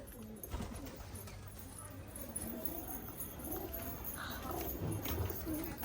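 Pigeons cooing in a loft or enclosure, soft low coos rising toward the end amid background rustling and movement, no clear talk.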